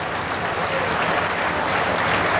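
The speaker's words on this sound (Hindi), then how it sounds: "तालियों के साथ स्वागत करेंगे।" A large crowd at a political rally welcomes India's Home Minister Amit Shah with thick, continuous applause, loud and steady throughout, with no speech over it.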